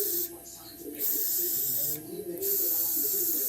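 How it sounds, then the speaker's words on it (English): A barber's airbrush puts out too much spray. It makes a steady, close hiss, interrupted by two brief dips in pressure. "this is putting out way too much spray"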